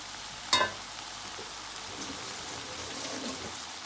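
Garlic and seasoning hit hot oil in a pot for chicken stew with pigeon peas, one sharp clack at the start followed by a soft, steady sizzle that stays faint.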